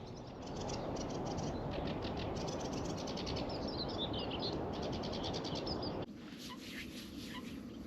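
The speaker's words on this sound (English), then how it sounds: "That bird song is just deafening." Dense morning bird song outdoors, with swallows about, many rapid chirps and trills layered over a loud steady rushing background that drops away toward the end, leaving fainter calls.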